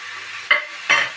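Ground spices being stirred into paneer bhujia frying in a pan, two short scraping, sizzling strokes standing out over a soft steady fry.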